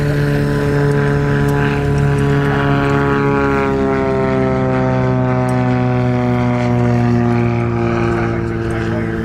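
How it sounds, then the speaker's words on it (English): A Beechcraft Bonanza propeller airplane arrives to land at Oshkosh 2025 on runway 36, its steady, loud, droning engine and propeller hum holding close throughout with slight pitch shifts and no talk. "Sounds like a Bonanza coming in."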